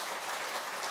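Church congregation at a Sunday service applauding to welcome a visiting young man from Denmark, a short burst of dense, even clapping from many hands filling the hall.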